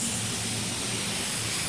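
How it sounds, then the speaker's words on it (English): A budget hobbyist spray gun lays paint onto a truck tailgate panel in a steady, close, continuous hiss with no pauses. "when I spray, I'm going to start here and then work my way up"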